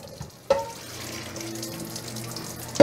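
Water runs from a kitchen tap into a double sink during dishwashing, a steady close splash that starts with a sharp onset and ends with a clatter.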